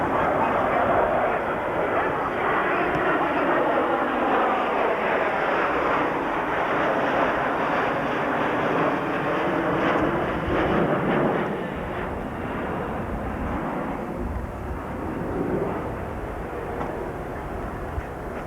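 A military fighter jet from the 906th Fighter Group, 89th Fighter Squadron makes a pass at the 1993 Dayton Air Show, a loud sustained roar that shifts in pitch as it sweeps by, then gradually eases.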